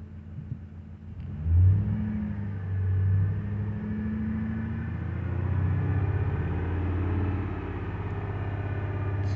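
A freshly rebuilt Ford 5.4L 3V V8 runs steadily at around 2000 RPM, a close, loud, even engine drone with a brief rise in revs early on and no talking.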